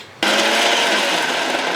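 A mixer grinder jar whirring with grated coconut inside, a loud, dense motor roar starting abruptly and running steadily for about one and a half seconds before cutting off, close up in a home kitchen while making urad dal dosa batter.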